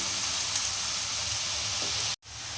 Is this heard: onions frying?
yes